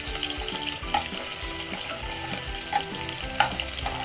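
Half an onion browns in hot oil for chicken chops, a continuous close sizzle broken by regular scraping and stirring knocks against the pan, with no speech.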